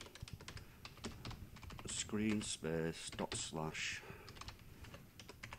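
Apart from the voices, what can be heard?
typing on a computer keyboard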